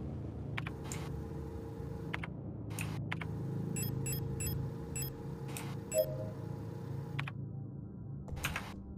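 Short electronic beeps from a video game, a cluster of quick, evenly spaced tones repeating in bursts over a steady low background hum, with one brief louder blip near the middle.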